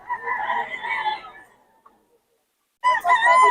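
A bull stag rooster crows up close, one loud cock-a-doodle-doo that trails off, then a short silence before a second crow starts sharply at the end.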